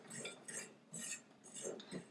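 A utensil stirs currants into scone mixture in a bowl, giving four or five quiet scraping, clinking strokes in an uneven rhythm, close up with no talking.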